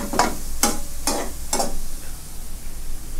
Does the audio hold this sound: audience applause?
no